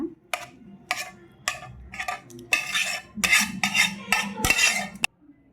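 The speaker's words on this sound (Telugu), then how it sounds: "చక్కగా ముక్క ఇరగకుండా మంచిగా అయితే మన్ కలిపేసుకుందామండి మొత్తం కలిసిపోయేలాగా" A spoon stirs bitter gourd pickle in a dish, making a rhythmic run of clinks, scrapes and wet mixing strokes, close and fairly loud with no talking.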